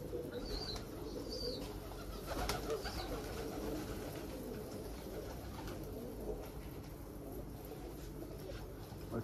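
Arabian mirror-tail pigeons in a loft, with soft cooing and a brief flutter of wings over a steady background hum, the calls low and fairly close.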